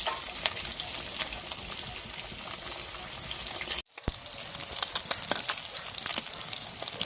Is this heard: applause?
no